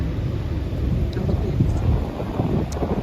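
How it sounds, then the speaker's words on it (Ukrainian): Strong wind roaring into the microphone over the deep, continuous rumble of rough, high sea waves in Da Nang, Vietnam, loud and unbroken throughout. "високі хвилі, тому що вітряно"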